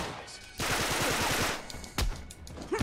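Sniper gunfire in the video game Uncharted 3: Drake's Deception Remastered on PS4, heard as a loud sustained burst of rapid shots and a sharp crack, with further close, heavy reports near the end.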